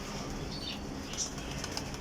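Desi racing pigeons, one and a half years old, are released outdoors; their wings flutter faintly against steady background noise, with a few soft chirps.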